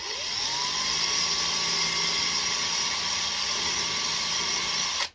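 Power drill boring holes into wood during a cigar box guitar build, a steady high whine with no talk that holds for about five seconds before cutting off abruptly.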